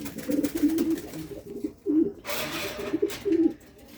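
Racing pigeons on a pigeon farm at night coo in repeated low, throaty phrases, fairly close and steady, with the calls overlapping and continuing throughout.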